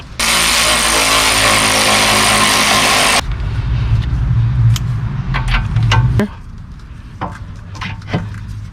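Dodge Grand Caravan being jacked up high during a front shock replacement: a loud, steady mechanical whir from a power tool for about three seconds, then lower rumbling and scattered clanks and knocks nearby.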